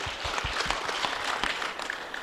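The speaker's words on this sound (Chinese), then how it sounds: "我们为杨先生鼓鼓掌好不好？" Audience applause at a televised finance forum in China, a short burst of brisk clapping from a crowd in a hall, moderately loud and steady for about two seconds.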